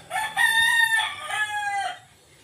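A wild junglefowl (labuyo) rooster crows close by, two clear, strident cock-a-doodle-doo phrases in quick succession, loud and alone against a quiet background.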